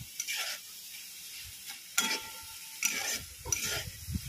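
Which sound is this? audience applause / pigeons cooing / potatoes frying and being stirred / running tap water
potatoes frying and being stirred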